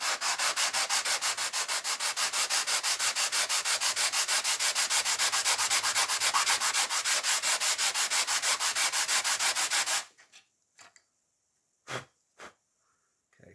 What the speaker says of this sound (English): you'll know when you've sanded just enough because all the scorch marks will be gone.